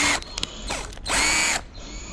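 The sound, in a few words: drilling holes in a PET plastic bottle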